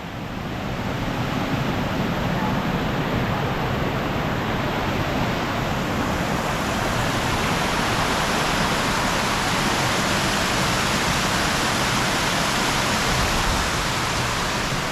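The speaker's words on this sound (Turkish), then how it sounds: "böyle bir şelale" Cold water crashes down at All Saints Waterfalls in Germany, a continuous heavy rushing roar that holds steady and loud at close range, with the hiss swelling slightly after the first few seconds; no one speaks.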